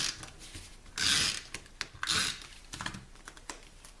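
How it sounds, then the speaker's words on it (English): A Stampin' Up snail adhesive runner pressed onto a paper card base, giving close, short scratchy rolling strokes in a few bursts, quiet between them. "We're going to use our snail again and adhere this to the card base."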